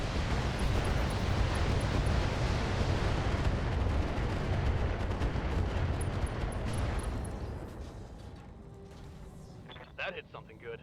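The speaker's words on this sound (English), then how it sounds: "let's try to blow up this long tom Firing on target" In a video game, artillery fire aimed at a Long Tom gun produces a dense, heavy rumble of blasts for several seconds, then fades to quieter scattered noise with a few sharp clicks.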